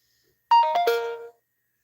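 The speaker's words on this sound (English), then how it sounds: "Birthday bell." A bright chime sound effect rings out as a birthday bell: three quick descending ding tones, clear and close, alone with no talking.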